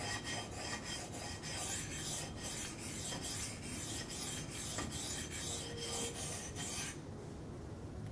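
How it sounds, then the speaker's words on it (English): A knife blade is drawn across a sharpening stone in a steady run of close, rasping strokes, evenly spaced and continuous, ending abruptly near the close; no talking. "It's very, very awkward sharpening in this position"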